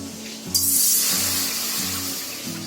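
Water pours steadily into a kadhai for cooking modak dough, a bright splashing rush that starts abruptly and continues, with a low hum running underneath.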